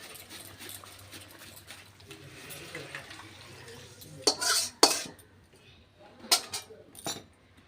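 A cooking pot of amudi fish sour curry is lifted off a kitchen stove, with a few sharp metallic clanks and scrapes of pot against burner and utensils amid low background hum.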